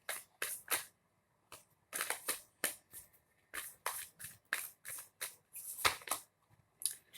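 Tarot cards shuffled by hand in quick, crisp riffling bursts separated by short pauses, with a card drawn from the deck; close, moderately quiet, and with no talking.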